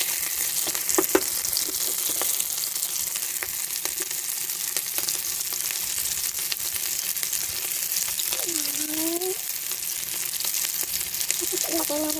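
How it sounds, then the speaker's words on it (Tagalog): Garlic frying in a hot pan while pancit with meatballs is being cooked, giving a steady, close, bright sizzle with a few light clinks of a utensil against the pan. "ilagay na natin ang"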